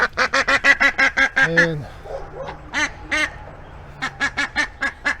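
A farm duck, a hen named Fawn guarding eggs, quacks loudly in a rapid run of repeated calls, pauses for a few scattered quacks, then resumes a steady string; a person says a word briefly.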